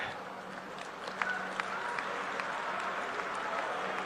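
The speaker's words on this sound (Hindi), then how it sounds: "मैं देख रहा था पूरा मंडप तालियों से गूंज रहा था, तालियां बंद नहीं हो रही थी।" An audience in a large hall applauds steadily at moderate distance, producing a dense, sustained wash of clapping with a few sharper individual claps standing out.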